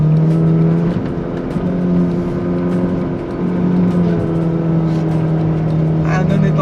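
A Jeep Renegade Turbo Flex Trailhawk drives across open sand dunes, its engine holding a steady droning hum with slight rises in load throughout, heard from inside the vehicle with a voice talking over it.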